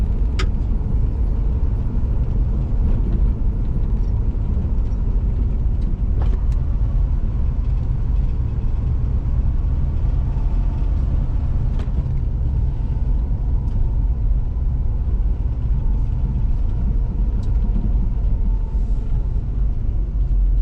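A 1972 Chevrolet El Camino's engine idles warmed up on valve adjustment day, a steady close low rumble running without a break and occasional faint clicks above it.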